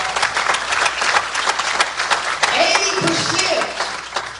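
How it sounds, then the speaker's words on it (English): A church congregation claps in praise to God during a sermon, a sustained wash of many hands clapping at moderate loudness, with a voice talking over it partway through. "Can we give God a good hand clap of praise right now?"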